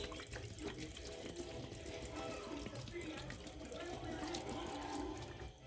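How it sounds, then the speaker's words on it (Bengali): Cold water pours steadily into a container while making a bel (wood apple) sherbet, a continuous splashing, trickling flow close by with a faint voice underneath. "ঠান্ডা জল দিয়ে দিলাম।"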